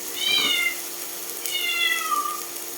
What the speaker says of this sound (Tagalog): meron po kaming pusa na medyo maingay siya.